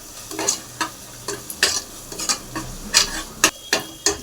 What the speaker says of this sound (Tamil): கொஞ்சம் நல்லா கிளறிக்கலாம்.